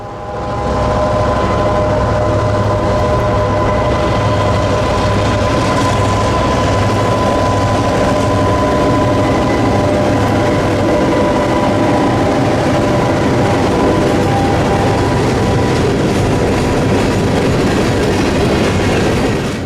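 Old EMD GP-series diesel locomotives accelerate to track speed close by in Central Florida, with a deep diesel engine drone, rhythmic clickety-clack of wheels and continuous loud mechanical noise throughout.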